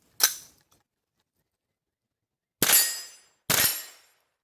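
A CMMG .22LR conversion kit rifle fires three sharp, loud cracks outdoors, one alone and then a pair fired close together about a second apart, each followed by a brief decaying tail.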